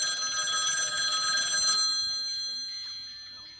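A telephone rings with a bright, steady electronic tone that holds for a couple of seconds and then fades, with faint voices underneath.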